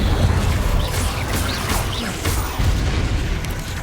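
The Incendio fire spell goes off in the wizarding game Hogwarts Legacy as a dense, continuous roar of booming, crackling bursts, loud and sustained, with no clear single blast.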